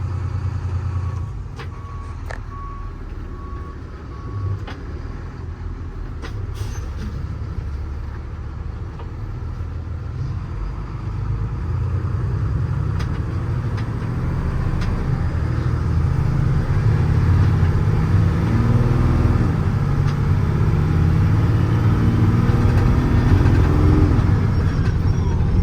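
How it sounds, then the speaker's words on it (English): A 2017 Hino 338 truck with a 14-foot Adkins bed and Autocrane drives down the road, its engine a steady low rumble that slowly builds louder over road and wind noise. "Truck has plenty of power down the road."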